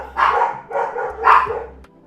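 A dog barks hard at a delivery man outside, firing three loud, close barks in quick succession with a low hum underneath.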